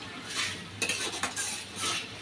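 Pomfret fish coated in salt, chili and spices stirred in a pan, giving soft scraping and utensil clinks with a light sizzle, a few louder strokes close by and no voices.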